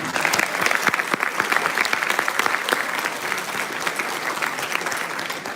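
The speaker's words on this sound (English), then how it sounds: "A big round of applause for him." Dense, steady applause from an audience at a leadership masterclass, loud and sustained for the whole stretch with no talk over it.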